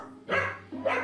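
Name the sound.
dog barking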